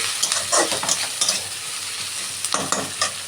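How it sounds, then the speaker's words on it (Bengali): Potato pieces fry in a pan with a close, loud sizzle, punctuated by bursts of scraping as a spatula stirs and turns them. "এদিকে আলুটা ভেজে নিচ্ছি"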